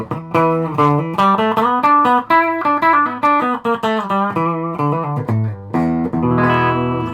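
Yamaha Pacifica 112 electric guitar on its humbucker pickup through a small amp, played as a run of loud, sustained chords and picked notes with a slightly driven tone, ringing steadily with brief gaps between phrases.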